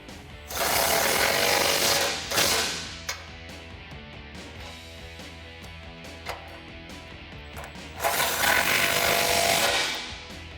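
A ratchet with an 18mm socket tightening bumper bolts on a Jeep Gladiator JT, two bursts of quick clicking close by, separated by quieter handling noises and a few small clanks.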